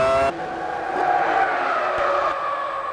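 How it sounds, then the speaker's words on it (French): Formula 1 cars racing in the 2000 season, with a high, loud engine scream that shifts pitch as it passes nearby, under a steady trackside roar. "Au 20e tour, Barrichello mène alors chez lui sur une Ferrari"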